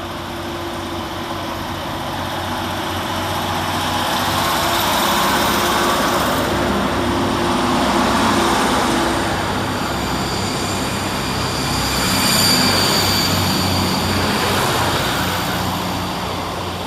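Two coupled Scotrail Class 156 diesel units, 156439 and 156502, pull out of Pollokshaws West station on a Kilmarnock to Glasgow Central service, a steady loud engine drone that swells and eases with rail noise.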